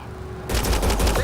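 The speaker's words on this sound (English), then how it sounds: "They shot him!" A sudden, loud, rapid volley of gunshots erupts partway through a shootout in Mass Effect Andromeda, after a quiet lead-in, and keeps going to the end.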